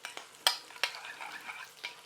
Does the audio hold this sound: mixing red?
yes